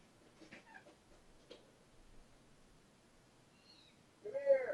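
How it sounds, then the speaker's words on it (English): A cat gives a single short, fairly loud meow at the very end, after a long stretch of near-silence broken only by a few faint clicks. "It's his cat."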